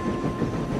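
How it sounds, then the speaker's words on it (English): A train from an animated children's show rolls along in a short burst of steady rumbling and faint clattering with a light hiss, fairly close and without talk. "Hold on, I thought that was Edward's train."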